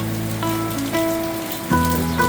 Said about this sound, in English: it's just pouring down rain here at our house